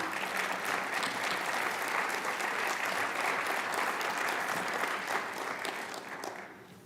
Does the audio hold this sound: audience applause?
yes